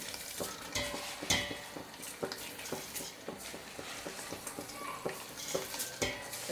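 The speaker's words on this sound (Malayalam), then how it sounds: "അപ്പോൾ ഞാനിനി ഇതിലേക്ക് ചേർക്കണത് നമ്മുടെ അരിയാണ് കേട്ടോ." Three cups of soaked rice tipped into a pot of water for Bangalore-style donne chicken biryani, giving close, irregular scraping, stirring and clattering sounds with no talk.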